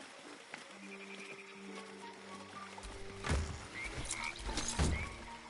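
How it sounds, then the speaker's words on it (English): Frog croaks in Baldur's Gate 3, a couple of loud throaty bursts near the end over a steady ambient game soundscape with soft tonal hums. "There's a frog."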